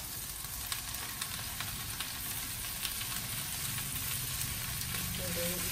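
Spinach frying in a pan for a sardines-and-spinach dish, giving a steady soft sizzle and crackle that holds at a low, even level throughout with a few faint clicks.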